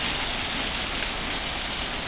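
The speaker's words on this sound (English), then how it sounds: "Hail." Hail comes down outside in Santa Cruz as a dense, loud, unbroken hiss of pelting ice, with no voices.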